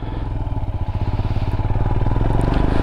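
A Royal Enfield Himalayan motorcycle pushes through deep water. Its engine thumps loudly and steadily nearby, with splashing and clatter mixed in.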